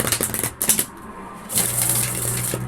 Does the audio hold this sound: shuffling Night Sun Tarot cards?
yes